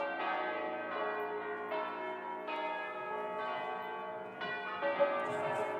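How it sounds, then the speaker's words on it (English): Church bells in northern Italy ring together in a rich, sustained peal during a bell concert, with fresh strikes every second or so layering over the lingering hum; no voices. "we come up with an idea of having this kind of bell concert"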